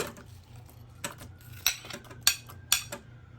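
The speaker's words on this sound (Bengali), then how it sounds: "এবার আপেলগুলো দিয়ে দিচ্ছি।" Apple pieces dropped into a dessert bowl with grapes, giving four or five light, sharp clinks and taps spaced about half a second apart against a quiet background.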